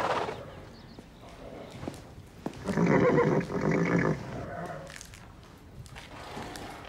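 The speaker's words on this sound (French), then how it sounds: "Comanche, tu es le cheval le plus intelligent de toute la Terre." A horse whinnies once in a loud, wavering burst amid faint background rustling and distant voices.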